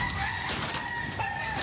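A fighting rooster in Washington State crows, a short, fairly close call that rises and then drops in pitch, heard alone over a faint background hum.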